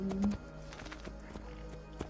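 Horse hooves clip-clop at a walking pace in Assassin's Creed II, a series of moderate, evenly spaced thuds set against game ambience.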